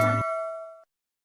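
A single bright notification bell dings once with a sharp metallic strike, and its clear tone rings on for under a second before stopping abruptly.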